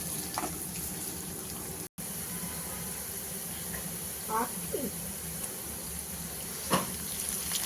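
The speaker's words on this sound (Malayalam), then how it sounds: "ഇതെല്ലാം കൂടി ഇട്ട് നല്ല ഭംഗിയായിട്ട് പച്ചമണം മാറുന്നിടം വരെ ഒന്ന് വഴറ്റിയെടുക്കാം" Ginger and other aromatics for a Kottayam-style fish curry hiss steadily in a hot pan, with a few soft stirring knocks and a brief dropout, while a voice may talk faintly underneath.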